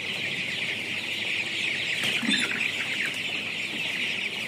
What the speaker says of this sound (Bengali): এই মুরগাটি হচ্ছে প্রোপিটা কোম্পানির প্রোপিটা সুপার কালার বাট।